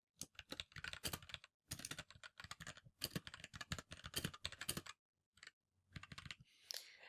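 Close, crisp typing on a computer keyboard comes in quick bursts of key clicks separated by short pauses, with no voices.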